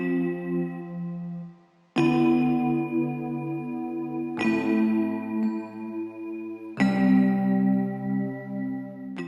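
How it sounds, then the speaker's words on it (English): A reverb-drenched piano sample plays plain block chords, four sustained changes struck in steady succession, each ringing into the next, alone and without voices. "So I took that same piano sample"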